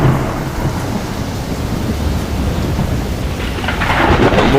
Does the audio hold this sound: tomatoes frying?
no